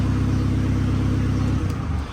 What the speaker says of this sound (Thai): อ่า ดับเครื่องนะครับ